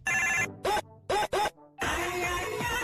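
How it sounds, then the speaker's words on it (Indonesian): A telephone rings in short repeated bursts, several loud electronic trills separated by brief gaps, amid busy background sound. "tak lama berbunyi suara telepon"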